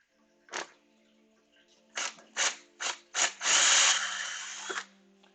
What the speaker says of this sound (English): So I'm going to try to drill these a little bit more straight now.